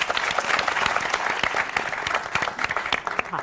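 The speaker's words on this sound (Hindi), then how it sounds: "जोरदार ताली" Loud, dense applause from a large crowd, steady and sustained throughout with many hands clapping at once.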